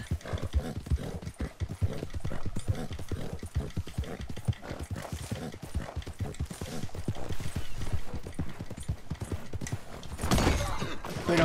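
Galloping horse in the Red Dead Redemption II video game, rapid rhythmic hoofbeats pounding steadily close up, with a brief whinny-like burst near the end.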